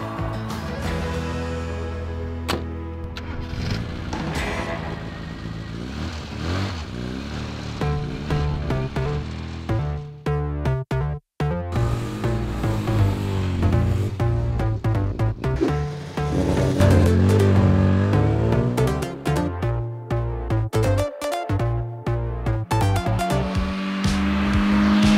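A classic Mini converted into a stretch limo with a 4-inch deeper rear seat drives along, its engine droning and revving steadily close up, with tyre and road noise and occasional gear-change dips.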